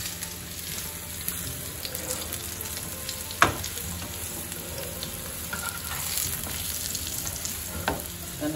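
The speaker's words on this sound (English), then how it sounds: "And now let it fry the other side for 2 to 3 minutes." Stuffed fish cakes frying in a pan on a gas hob, a steady soft sizzle of oil with small crackles and one sharp clink partway through, close and fairly quiet.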